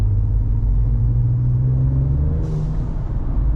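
A Ford Ranger Raptor engine fitted with a Turbosmart blow-off valve drones and builds boost from inside the cabin, a low rising rumble, then a short hissy release near the end.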